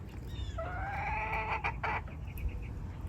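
A pet chicken in a small garden gives a few soft, close clucks and tonal calls over a steady low background rumble, with no one speaking.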